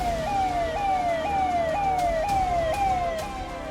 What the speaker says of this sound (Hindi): जम्मू कश्मीर के राजौरी में सायरन बज रहा है।